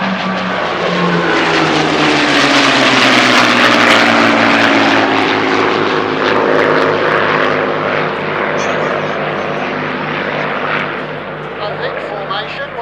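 A propeller-driven warbird makes a canopy-up pass at a RAAF Museum flying display, its loud engine drone rising, peaking overhead and slowly fading as it passes.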